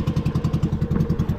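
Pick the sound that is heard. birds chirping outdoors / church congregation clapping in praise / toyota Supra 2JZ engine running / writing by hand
toyota Supra 2JZ engine running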